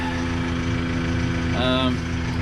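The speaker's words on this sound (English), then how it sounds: "first we let the tractor warm up a good bit so it's not as cold." A New Holland tractor engine idles steadily while warming up on a snowy day, a close, constant low rumble with a brief higher whine partway through.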